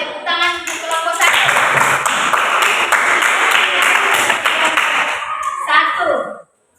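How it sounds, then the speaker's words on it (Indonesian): Students in a classroom clap for a group, beginning with a few quick synchronized claps and swelling into loud, close, sustained clapping that stops abruptly at the end. "Berikan tepuk tangan untuk kelompok 1."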